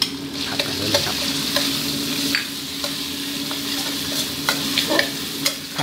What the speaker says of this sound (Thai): ผัดกันเลยครับ